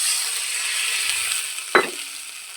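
Water splashes once into a pan of sizzling ground white mustard paste for a spicy Bhola fish curry, a short bright gush cutting through steady frying hiss, close and fairly loud.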